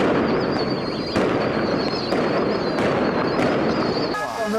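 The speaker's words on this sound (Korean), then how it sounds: "갑자기 전쟁이라도 난 듯 폭죽 소리가 요란하다" Firecrackers exploding loudly in a street in Zhangye, Gansu Province, China, a rapid dense barrage of sharp cracks and bursts with several louder blasts, continuing without pause.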